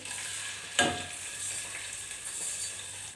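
A soft, steady sizzle of ground spice paste for kadhi frying in oil, with one sharp clack of a utensil early on.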